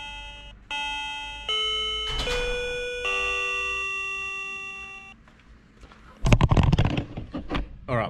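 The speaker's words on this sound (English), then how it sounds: "if I press a button you should hear the doorbell." An electronic doorbell plays a sequence of clear, ringing chime tones for several seconds, followed by a burst of louder rustling, handling noise.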